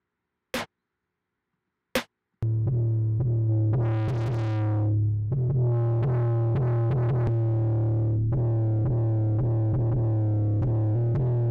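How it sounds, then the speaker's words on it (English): Morphine 8 distortion applied to a sub bass synth: two short clicks, then a loud, sustained, buzzy distorted bass with a rising and falling sweep running to the end. "Distortion might be a little more apparent on a sub"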